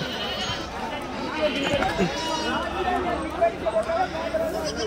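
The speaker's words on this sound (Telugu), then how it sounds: "ఇటు చూసుకుంటే కొన్ని పొత్తిపిల్లలు ఉన్నాయి, మేకపిల్లలు ఉన్నాయి" Goats and young goat kids bleat repeatedly at a weekly livestock market, the calls rising over a steady background of crowd chatter and people talking nearby.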